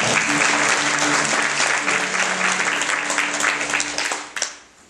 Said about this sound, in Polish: Również gorące brawa.